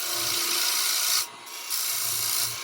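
A Christmas bauble spins on a wood lathe while a carbide or traditional turning tool cuts it, giving a loud, steady hissing rasp. The cut breaks off briefly in the middle and then resumes, with no voices.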